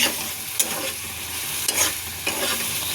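Spice masala for egg curry sautéing in a pan, a steady close sizzle with a few sharp scraping stirs of the spoon, with no voices.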